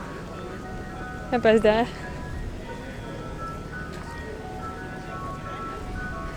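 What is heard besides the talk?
ice cream truck playing music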